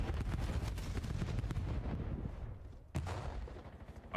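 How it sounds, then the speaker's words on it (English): Frag grenade explosions from a competitive Call of Duty match, a dense run of loud booming blasts that rolls on for seconds, with a sharp fresh burst near the end. "I believe that's every frag grenade in the game"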